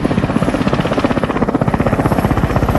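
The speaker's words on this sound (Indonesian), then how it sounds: "Joker dan temannya pun berangkat menggunakan helikopter" Helicopter in a Vietnam War film: a loud, steady rotor chop with rapid rhythmic blade thumps and turbine whine throughout, close and alone without voices.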